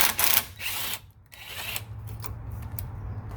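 A ratchet clicks in quick bursts while fasteners are removed from a SAAB 9-3 during an intercooler install, the close metallic ratcheting alternating with short pauses.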